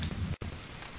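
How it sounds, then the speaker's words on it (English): Rain falls in the Roblox survival game Booga Booga, a steady hissing patter broken by one brief drop-out. "I hate that it's raining, and I can't see much at all now"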